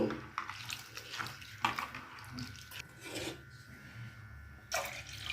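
Soaked urad dal is rubbed and swished in water by hand, with wet rasping, sloshing and a few louder splashes in irregular bursts, close by and moderately quiet.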